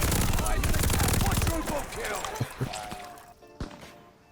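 Rapid automatic fire from a UGM-8 light machine gun in Call of Duty Vanguard multiplayer, a loud, fast rattling burst for about a second and a half, then scattered single impacts and shots tailing off.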